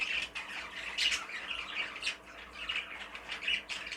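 Pet birds in a garden shed squawk loudly and harshly, again and again, with repeated close, raspy calls over about four seconds of continuous noisy chatter.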